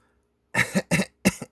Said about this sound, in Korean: 이렇게 하는 기침은요